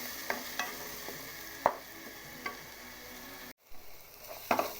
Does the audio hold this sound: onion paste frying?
yes